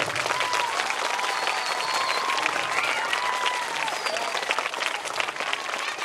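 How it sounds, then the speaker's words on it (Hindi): A school gathering crowd gives loud, sustained applause to welcome the judges of the program, dense clapping close and full throughout, with faint whistles or cheers drifting above it. "तालियों से जोरदार स्वागत।"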